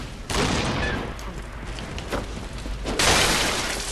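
Cannon fire and blasts in the Bloodborne video game burst out in rough, loud booms, with one crash near the start and a heavier blast around the three-second mark over a noisy, clattering game backdrop.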